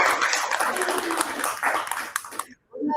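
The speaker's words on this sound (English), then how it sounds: "Give round of applause to Alvaro." Audience applause for a speaker named Alvaro at a speaking event, dense and steady clapping for about two and a half seconds before cutting off abruptly, with faint voices following.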